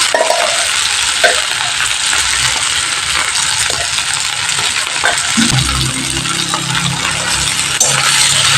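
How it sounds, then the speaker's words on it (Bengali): Potatoes, onions and chillies frying in hot oil, a loud, continuous sizzle up close, with occasional stirring clinks against the pan. "এবার আমি এই তেলের মধ্যে আলু পেঁয়াজ আর লঙ্কাটা আমি ভেজে নিচ্ছি"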